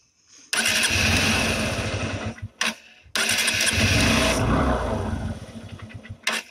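A 2019 Honda Shine SP motorcycle engine cranks and starts after a carburetor adjustment, running loud and rough for about two seconds, then cutting out, before restarting and running again with a ragged idle.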